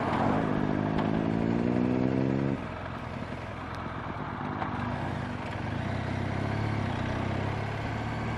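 A motorcycle pulls away from a roundabout with a rising engine note that climbs through a gear, then shifts up and holds a steady drone under wind noise, loud and close.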